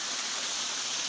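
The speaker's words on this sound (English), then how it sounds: "So it's a nice little waterfall." Small waterfall on a mountain creek along the Bartram Trail, a steady, full rushing wash of falling water heard close and continuous with no talk.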